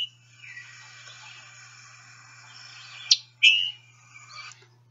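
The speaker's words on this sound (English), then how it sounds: "The other note that the scarlet tanager produces, both male and female, is the chick burr." The chick-burr call of a scarlet tanager sounds as a couple of sharp, close call notes, one sudden chip followed by a harsher burred note, over a faint background and a low steady hum.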